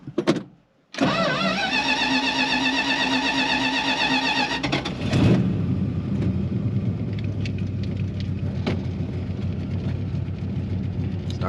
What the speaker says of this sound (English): Starts right up, idle's nice